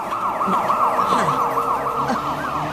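A police siren wails in a steady rising and falling cycle, loud and continuous over faint background sound and brief bits of other noise.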